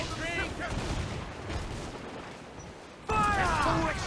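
Ship cannons fire during a naval battle in Assassin's Creed IV: Black Flag, a rumbling barrage under shouted crew voices, ending in a sudden loud blast near the end.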